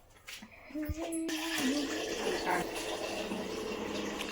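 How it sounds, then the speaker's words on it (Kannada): Water pours steadily into a pot, a full bowlful, a continuous splashing rush after a brief knock and clatter at the start, close and fairly loud. "ಸೊ ಇದಕ್ಕೆ ಒಂದು ಬಟ್ಲು ನೀರು ಹಾಕೊತಾ ಇದ್ದೀನಿ"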